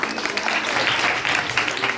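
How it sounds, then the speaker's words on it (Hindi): Brief burst of audience clapping for Babu at a Hindi church gathering, steady mid-level applause filling the whole moment with no clear talk over it. "बाबू के लिए ताली बजाइएगा।"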